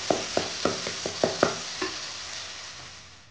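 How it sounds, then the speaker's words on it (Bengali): Tomato and onions frying in a pan, with a spoon scraping and stirring in a quick run of sharp clinks over a steady sizzle that fades away after the stirring stops. "এবার টমেটো কষা হয়ে গিয়েছে পেঁয়াজের সাথে"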